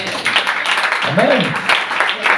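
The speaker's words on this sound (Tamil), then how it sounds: "கைதட்டுங்க பார்க்கலாம்." Church congregation clapping hands during a Sunday service, a dense, steady patter of many hands filling the room while a voice carries over it.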